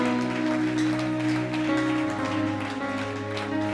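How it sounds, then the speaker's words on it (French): Congregation at a prophetic church gathering applauding in a dense, rain-like patter of many hands, layered over held organ or keyboard chords that shift midway, steady and full throughout. "Acclame comme quelqu'un qui veut recevoir."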